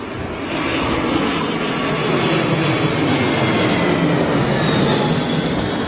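An IAE-powered Airbus A320ceo arrives on runway 27L at London Heathrow, its broad, steady engine roar holding loud and close for several seconds with no voices.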